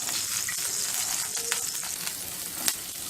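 Green chillies and garlic sizzle steadily in a teaspoon of oil in a pan while making ridge gourd peel chutney, a continuous close crackle with a few sharper pops and spatula scrapes, no talking.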